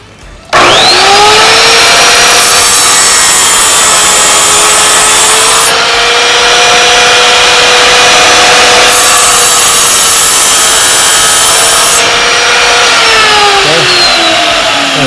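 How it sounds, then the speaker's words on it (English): A power tool cuts excess material off a shower base or concrete shower foundation, a loud, sustained high whine with grinding texture that runs almost the whole time, its pitch dipping slightly under load, with no talking. "the first thing I'm going to do is cut my excess off"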